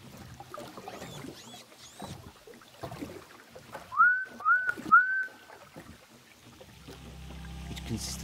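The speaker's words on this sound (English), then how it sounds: "we noticed an atypical whistle" A juvenile orca gives an atypical whistle, three repeated up-down tonal calls clearly heard underwater amid boat and water noise, followed by low engine hum.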